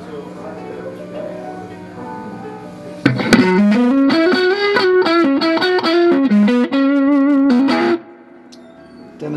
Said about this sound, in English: And adding some distortion at the end.